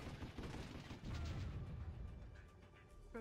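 Units' automatic fire in the strategy video game Warzone 2100, a dense rattle of overlapping gunshots and booms at moderate distance, continuous and busy throughout the short stretch.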